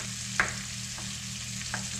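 Vegetables sauté in a pan for a pizza topping, a soft steady sizzle with a few light stirring clicks and scrapes.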